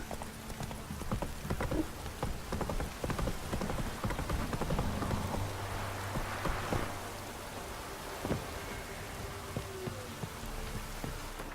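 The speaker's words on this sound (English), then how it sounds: "This downpour's a bastard, it is." Heavy rain pours down during a horse ride in the video game The Witcher 3, a constant hiss of downpour under steady clip-clopping hooves, with occasional sharper thuds and a faint low rumble.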